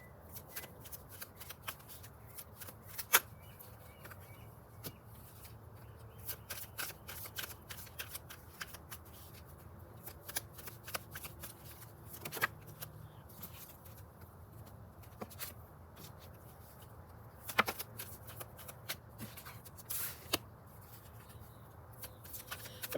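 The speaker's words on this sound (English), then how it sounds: "you guys know that I shuffle pretty well on camera" Tarot cards are shuffled continuously with soft riffling and papery shuffling throughout, broken by frequent sharp snaps and taps as the deck is cut and bridged, fairly close and quiet with no talking.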